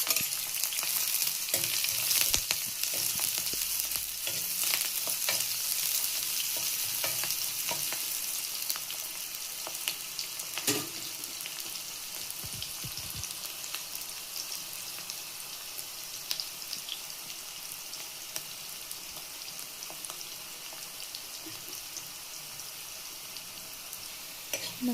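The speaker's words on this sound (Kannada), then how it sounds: "ಒಂದು ಕಡಾಯಲ್ಲಿ 100 ml ಅಷ್ಟು ಎಣ್ಣೆ ಹಾಕಿ ಎಣ್ಣೆ ಕಾದಿದ ನಂತರ ನೆಕ್ಸ್ಟ್ ಒಂದು ಕಟ್ ಮಾಡ್ಕೊಂಡಂತಹ ಈರುಳ್ಳಿ ಹಾಕಿ ಫ್ರೈ ಮಾಡಿ" Chopped onions fry in about 100 ml of hot oil in a kadai, giving a steady, close crackling sizzle with occasional stirring scrapes throughout.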